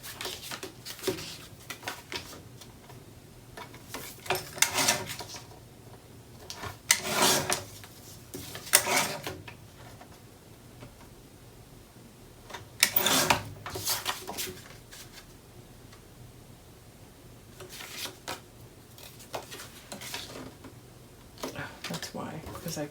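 Paper pieces are trimmed to a matching width for a mini album, producing repeated rasping slides of a paper trimmer blade, moderately close, in bursts with pauses between strokes.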